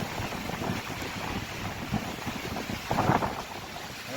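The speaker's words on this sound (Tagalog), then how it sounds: "Dito ang lakas ng hangin." Strong typhoon wind roars and buffets the microphone steadily, with rushing noise rising in a louder gust near the end.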